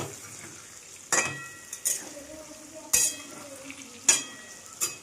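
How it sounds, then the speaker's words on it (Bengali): Potatoes fry in oil in a pan for a Bengali shukto, a soft sizzle punctuated by several sharp clacks of a utensil stirring and scraping, close and intermittent, without talk. "আলুটা ভাজতে দিয়ে দিয়েছি, আলুটা লাল লাল করে ভেজে নেবো"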